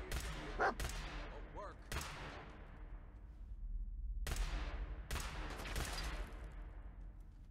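Laser weapon fire in the VR game Fallout 4, a few sharp zapping shots with long decaying tails, one burst early, one near two seconds, then a paired volley later over a low steady game ambience.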